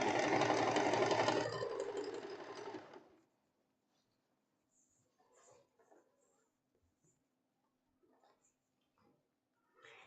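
Sewing machine stitching elastic-waist pants, a loud steady mechanical whir for about three seconds that stops abruptly, followed by near silence with faint scattered handling noises.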